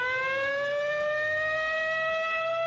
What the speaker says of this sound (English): The siren is not for the Rosses